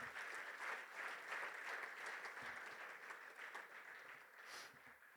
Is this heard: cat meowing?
no